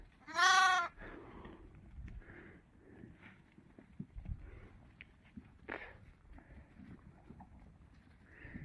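A loud sheep bleat rings out at the start, followed by softer, scattered bleats from sheep and lambs and light shuffling of animals outdoors.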